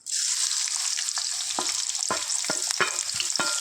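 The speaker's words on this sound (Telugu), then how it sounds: "ఆయిల్ హీట్ అవ్వనిద్దాం ఫ్రెండ్స్ ఇందులో ఒక టూ ఆనియన్స్ ఒక టెన్ మిర్చి వేసుకున్నా" Onions and green chillies sizzling in hot oil, a steady loud frying hiss right from the start with scattered crackles and pops over it, no voices.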